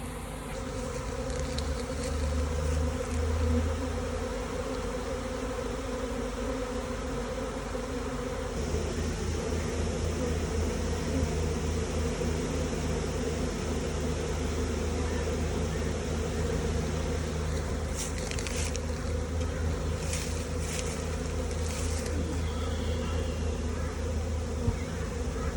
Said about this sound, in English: So our bees swarmed this morning